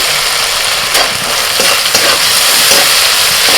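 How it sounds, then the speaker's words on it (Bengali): Masala with tomato and chili fries loudly in a pan, a dense, constant hiss of sizzling oil with a few faint knocks of stirring, close-up and without speech. "টমেটো লঙ্কা একটু ভেজে নিয়ে এবার এই মশলাটা দিয়ে দিচ্ছি"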